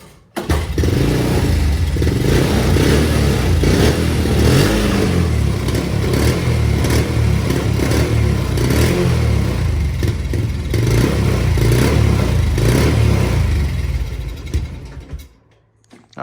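A Honda TRX 90 ATV engine starts and runs, a loud close clattering idle with revving bursts that holds steady for over ten seconds before cutting off at the end.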